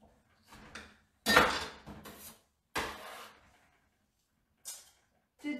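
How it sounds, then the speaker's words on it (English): A knife dices tomatoes on a board for a raw vegan puttanesca, making a handful of separate, fairly quiet knocks and clatters with silent pauses between them. "So I'm just small dicing the tomatoes."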